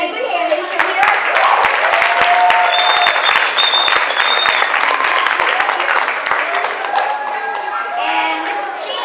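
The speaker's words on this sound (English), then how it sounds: "Can we give her a hand? Good hand" An audience at a school family fun night applauds a hospital speaker, loud sustained clapping from a crowd nearby with a few voices mixed in.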